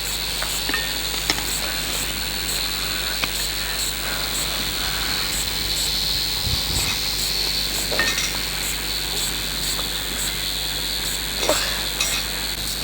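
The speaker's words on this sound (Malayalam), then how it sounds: "ഉള്ളി നമുക്ക് വഴട്ടാം." Onions sautéing in a pan for a stingray curry with kudampuli, a steady soft sizzle with occasional stirring scrapes and clinks, moderately close, with outdoor insect chirping in the background and no speech.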